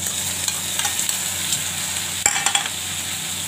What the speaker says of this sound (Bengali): সর্ষে বাটাটা দিয়ে দিচ্ছি, সর্ষে আর লঙ্কা বাটাটা।